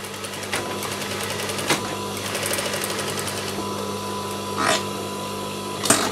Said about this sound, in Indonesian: Kemudian bagian bawah juga kita jahit.